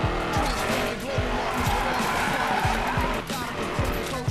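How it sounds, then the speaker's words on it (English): A car drifting in Need for Speed Payback, engine roaring loudly with repeated revving surges and sustained tire squeal throughout, dense and close game audio. "These drifts are real today."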